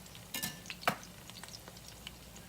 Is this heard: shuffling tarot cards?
no